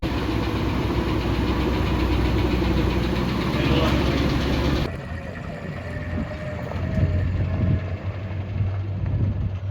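Engine of a revived barn-find dump truck running, a loud, steady low rumble that shifts in tone partway through, with voices faintly underneath.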